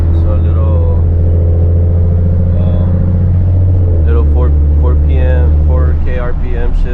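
A 2014 Ford Mustang with a modified X-pipe exhaust drones loudly and steadily from inside the car, its pitch climbing and then dropping at a gear shift midway, while someone talks over the engine.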